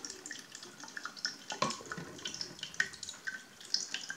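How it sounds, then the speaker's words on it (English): Water swirls and drains through a large hyperbolic funnel vortex device, making a close, uneven gurgling and trickling with frequent small splashes and drips, continuous and moderately loud without any voices. "water vortex is created in the main funnel, because it's a hyperbolic funnel and it will take some time to actually pass all the water through"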